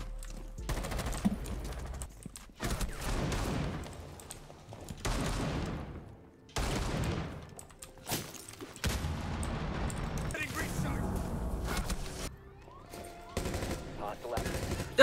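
Rapid bursts of automatic gunfire in a Rainbow Six Siege match, loud clattering volleys broken by short pauses, with a player's voice reacting over the shooting.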